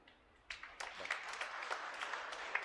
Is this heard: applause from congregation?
yes